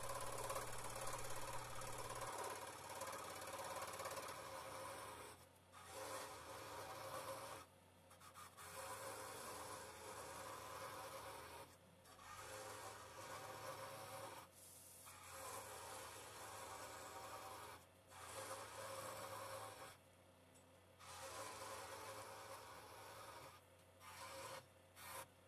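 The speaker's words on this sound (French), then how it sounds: "Et je les découpe avec ma scie à chantourner." Rapid buzzing rasp of a scroll saw cutting wood, running in long stretches broken by short pauses, fairly close and alone.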